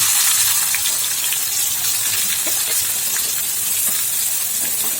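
Chopped onion sizzles and crackles in hot oil in a home cooking pan, a steady loud hiss with scattered pops running the whole time, no voices.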